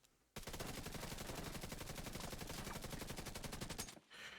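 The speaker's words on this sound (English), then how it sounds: "And just aim and shoot. Empty out whole mag." An assault rifle in The Division 2 fires a full magazine in one rapid, evenly spaced automatic burst lasting about three and a half seconds, loud and close, then stops abruptly.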